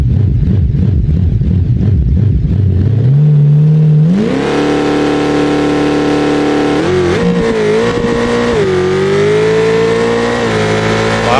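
In a BeamNG drag test, a car's engine revs in a rapid stutter, then launches off the line with wheelspin. The loud engine note rises steadily and holds a strained, climbing whine as the car accelerates hard.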